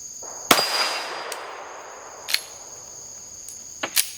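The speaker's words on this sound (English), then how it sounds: "Alright, CR920XP. First rounds. Brand new mags. Plate rack." A CR920XP pistol loaded from brand-new magazines fires at a steel plate rack, producing about five sharp reports with ringing metallic clangs, irregularly spaced over a few seconds.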